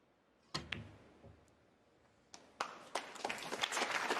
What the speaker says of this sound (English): The applause is for frame ball, barring snookers.